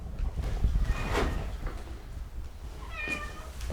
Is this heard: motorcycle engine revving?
no